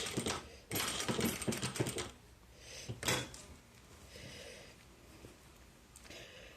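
A domestic sewing machine stitches a seam along an invisible zipper on a garment, running in several short bursts of rapid mechanical stitching separated by pauses, with quieter handling sounds in between.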